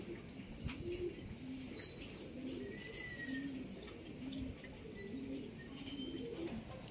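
Pigeons coo in a soft, repeated rhythm at moderate distance, the low calls recurring every second or so over faint background hiss.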